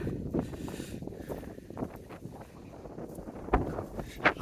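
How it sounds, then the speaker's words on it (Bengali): Strong cold wind gusts through an open Mongolian village, rumbling and buffeting the microphone in uneven bursts, with sharper gusts near the end and no talk. "দেখেন কি বাতাস।"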